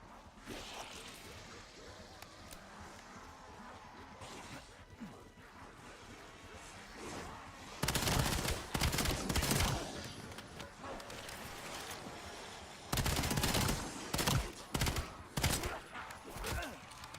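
Pistol fire in Call of Duty: Black Ops Zombies, on the Ashes of the Damned map, with two loud bursts of rapid, sharp shots over a busy game background.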